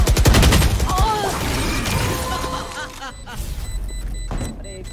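Ability sounds from VALORANT: a swarm grenade deploying and an incendiary being placed, bursting and crackling amid gunfire-like pops and whooshes, loud and busy over game effects, with a voice talking over them.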